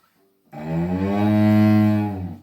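A violin bowed in one long stroke imitates a cow's moo, a single sustained rich low tone that swells and fades over about two seconds, close and loud with no talking.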